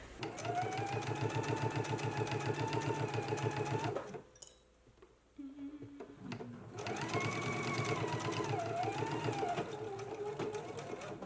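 Sewing machine fitted with a walking foot stitches the lower bands of a jacket, a fast steady mechanical whir running loud and close, stopping briefly for a few seconds with small handling noises, then resuming at full speed.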